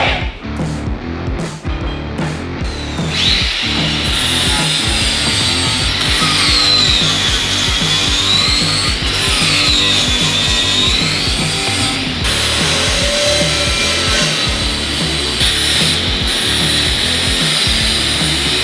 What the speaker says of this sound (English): What I'm going to do is sand all the areas.